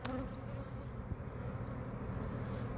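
Honeybees mill over an opened hive box during a fall split, a steady close buzzing drone with no talk over it.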